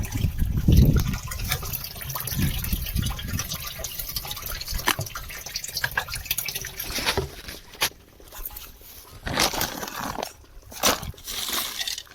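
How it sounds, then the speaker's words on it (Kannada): Water runs into a 200-litre drum filling for drip irrigation of tomato plants, an irregular gurgling and splashing with sloshing bursts and brief pauses, heard outdoors. "ಅದಕ್ಕೆ ನೀರು ಹಿಡಿತಾ ಇದೆ"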